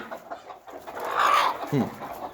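Free-range village hens on a poultry farm give a few soft clucks and a brief squawk, faint and close, with a quiet voice and light background noise around them.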